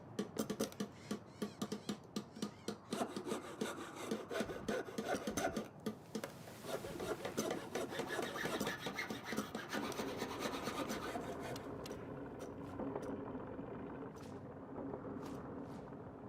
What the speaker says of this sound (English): Whoever's got that handsaw is really going at it.